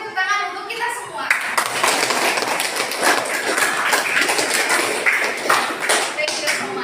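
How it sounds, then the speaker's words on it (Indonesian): Students in a classroom break into clapping after a teacher's call, starting with a brief voice and then a quick, bright patter of many hands with taps and thumps, fairly close and lively. "Beri tepuk tangan untuk kita semua"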